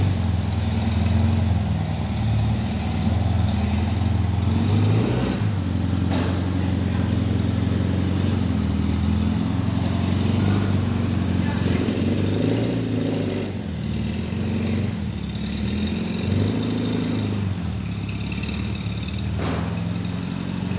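A Volkswagen Beetle engine idles steadily at close range, a loud continuous low rumble with a slight rough throb throughout and no talk over it.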